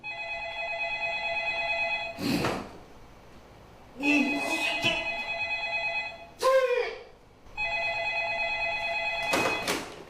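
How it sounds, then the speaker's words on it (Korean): An old-style telephone bell rings in a comic thriller stage play set in a quiet rural police station. The rings come in three separate bursts, with voices and stage sounds in the gaps between them. "한적한 시골 파출소에 걸려온 한 통의 전화"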